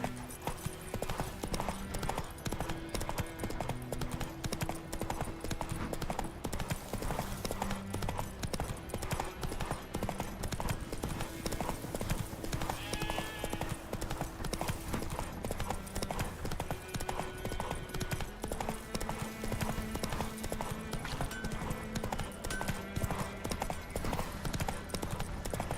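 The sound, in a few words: horse galloping in video game The Witcher 3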